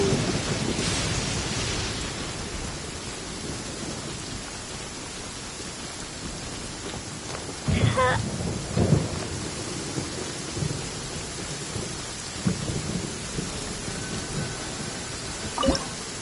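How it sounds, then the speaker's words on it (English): Steady rain hiss in the Genshin Impact video game, with a low rumble of thunder early and occasional brief drips or crackles, fairly faint and continuous with no talking. "Wait, it's just thunder and lightning."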